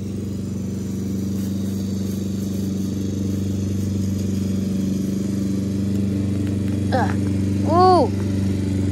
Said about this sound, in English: My husband ruined the sound effects with the lawnmower